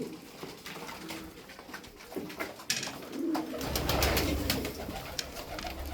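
Tokat game pigeons cooing close by, low soft throaty calls repeating, with some rustling and flapping in the background.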